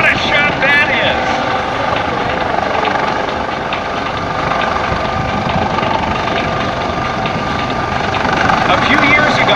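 A rescue helicopter hovers with its hoist at an air show, its rotor and engine roar loud and steady throughout, close by and filling the whole stretch, with a voice speaking faintly beneath it.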